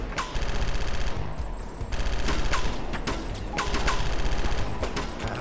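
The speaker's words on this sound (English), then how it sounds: "We're getting shot at." Sustained automatic gunfire in the video game Chaser, loud rattling bursts that fire almost continuously with only brief gaps between volleys.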